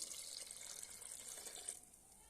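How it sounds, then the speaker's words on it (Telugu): A brief, quiet splash of water poured into a pot of Andhra-style sambar, running steadily for under two seconds before tapering off. "ఇప్పుడు మనం ఇందులోకి వాటర్ అయితే యాడ్ చేసుకోవాలి"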